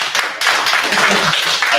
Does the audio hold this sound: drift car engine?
no